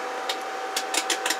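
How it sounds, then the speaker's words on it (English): Switching noise from a four-pill Class C amplifier wired to a Stryker SR955 10-meter CB radio: a steady hiss with a fixed tone, broken by several short bursts and clicks and no talk. "That noise is the amp switch"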